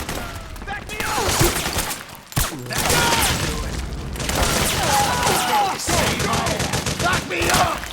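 Heavy battlefield gunfire in Metal Gear Solid 4, bursts of rifle shots and clattering volleys with a brief lull near the two-second mark, mixed with shouting soldiers and explosions.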